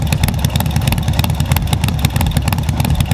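A Harley-Davidson Low Rider motorcycle fitted with an SP Concept big bore exhaust idles loud and close, with a steady, lumpy, uneven rumble and a slight clatter throughout, and no talking.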